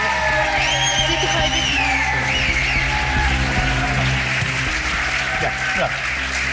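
A studio audience applauding and cheering on a Turkish TV game show as finalists come out, dense continuous clapping with whoops and yells, with a presenter's voice speaking over it.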